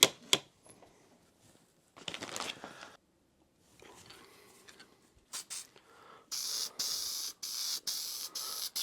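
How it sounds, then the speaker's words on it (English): Short hissing bursts of spray paint on 2020 Kawasaki KX450 motorcycle parts, several quick squirts followed by longer steady sprays, close and fairly quiet. "It's just like spray painting."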